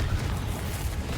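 A Confringo explosive spell in Hogwarts Legacy bursts into a heavy, rumbling boom, a brief blast of dense low-end roar that stays loud and even throughout.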